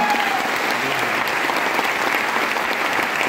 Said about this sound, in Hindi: इसके लिए मैं चाहूंगा एक बार जोरदार तालियां